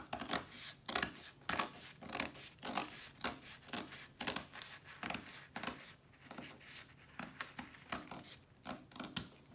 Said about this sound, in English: then I can finish it with scissors to get up around this